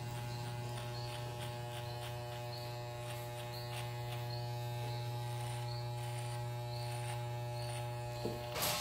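An electric hair clipper hums steadily and close while a fade haircut is finished, with the lever on the blade adjusted. The tone stays even from start to end, and a short knock comes near the close.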